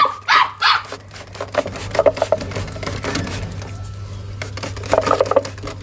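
A young puppy gives a few high, sharp barks and yips nearby, with some rustling and knocking in between.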